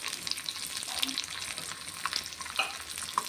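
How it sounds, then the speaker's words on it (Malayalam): Cashew nuts roasting and sizzling in a pan for semiya payasam, a steady close crackle with occasional light stirring clicks and no talking. "കശുവണ്ടി പരിപ്പ് നമുക്കതൊന്ന് മൂപ്പിച്ചെടുക്കാം"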